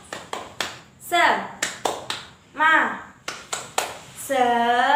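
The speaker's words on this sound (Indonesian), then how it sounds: "Tepuk semangat." Schoolchildren in a classroom perform a rhythmic spirit clap, sharp patterned hand claps in short bursts alternating with brief chanted group voices, close and lively.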